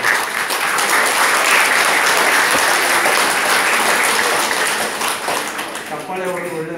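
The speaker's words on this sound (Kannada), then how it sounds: "ಚಪ್ಪಾಳೆ ಒಳ್ಳೆಯದು ಕೈ ಆಕ್ಟಿವ್." A group claps hands together during a meditation session at a women's degree college, a loud, sustained burst of dense applause-like clapping with voices mixed in.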